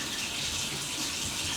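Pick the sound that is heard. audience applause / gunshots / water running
water running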